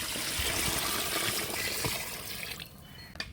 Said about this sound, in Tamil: இப்போ கிரேவிக்கு தேவையான அளவு தண்ணி ஊற்றிக்கலாம்